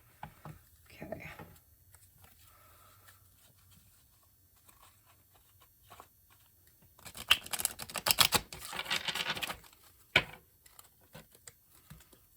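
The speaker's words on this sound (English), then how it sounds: "a lot of waiting in between when I shuffle on camera" Tarot cards being shuffled by hand at close range, a quick burst of crisp riffling and pattering taps after a long quiet stretch, ending with a single sharp snap.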